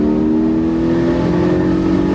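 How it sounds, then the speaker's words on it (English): A Porsche 718 Spyder engine pulls hard toward its 8,000 RPM redline, giving a loud, continuous, rising mechanical growl heard close up, steady throughout with no break. "It just opens just has this lovely kind of growl that comes on."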